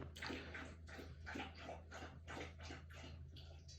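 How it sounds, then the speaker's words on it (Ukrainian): A pet rapidly laps water from a star-shaped bowl, a steady series of quick wet splashy laps close up, continuing without pause against a low hum. "всі послухаємо, як Мія п'є воду"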